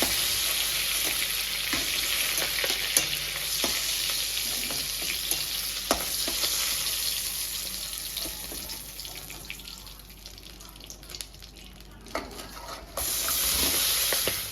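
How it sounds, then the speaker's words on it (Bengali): Potatoes fry in hot oil for a Bengali vegetable curry, a steady close sizzle running throughout with occasional clicks of a spatula and a brief dip near the end before the hiss returns. "তরকারির জন্য আলুটাকে দেখো প্রথমে ভেজে নিচ্ছি"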